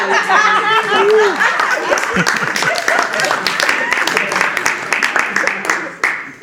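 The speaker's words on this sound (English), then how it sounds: "Can we give them a round of applause?" Audience applause at a stage hypnosis show in Hawthorne, NJ, steady clapping with scattered laughter and talk over it, fairly loud and continuing for several seconds.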